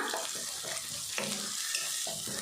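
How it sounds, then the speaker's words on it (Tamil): Crushed garlic and curry leaves sizzle in hot oil in a pan while being stirred for a raw banana fry, with a steady hiss and occasional scraping. "பூண்டை சேர்த்துட்டு நல்லா வதக்கிடலாம்."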